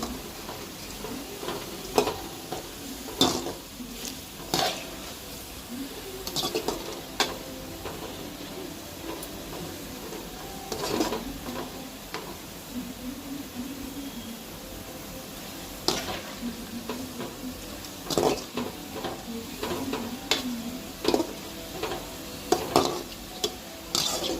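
Bitter gourd frying in a pan for Rayalaseema-style karampodi, a continuous close crackle of hot oil punctuated by repeated scraping taps as the pieces are stirred.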